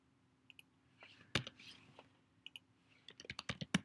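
Keys on a computer keyboard are tapped in a quiet room, with sparse clicks first and then a quicker run of crisp, close keystrokes and mouse clicks.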